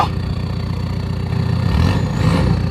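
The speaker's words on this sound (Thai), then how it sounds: "เป็นไงบ้างคะเสียงท่อ ไม่ดังมากกำลังพอดีค่ะ" Steady exhaust note from an automatic car, a moderate, not-too-loud rumble that idles evenly then swells slightly with a light rev near the end, heard alone with no talking.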